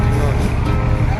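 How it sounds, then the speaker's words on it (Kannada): An electric city bus passes along Ocean Drive in South Beach, Miami, giving a loud, steady low rumble of road traffic that fills the whole moment without a break. "city bus, electric bus"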